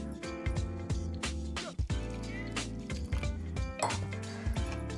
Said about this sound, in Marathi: थोडंसं इतकं पाणी मी टाकून दिलं